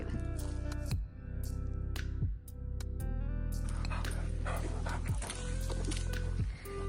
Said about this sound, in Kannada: ಇಲ್ಲೆಲ್ಲಿ ನೋಡಿದ್ರು ಡಾಗ್ಸ್ ಜಾಸ್ತಿ ಗೈಸ್.